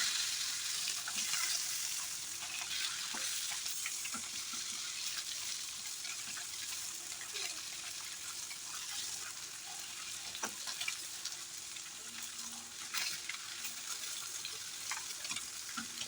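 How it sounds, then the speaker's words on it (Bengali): Eggs fry in mustard oil with turmeric in a wok, turned side to side, making a continuous soft sizzling hiss with a few faint clicks of a utensil, fairly quiet and steady with no speech. "ডিমগুলো এপিট ওপিট করে লাল লাল করে ভেজে তুলে নিচ্ছি"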